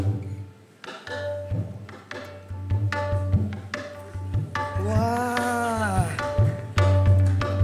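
Percussive guitar taps and thuds with pitch-bending swoops, mimicking a tabla's resonant tones in an uneven rhythmic pattern, close and fairly loud.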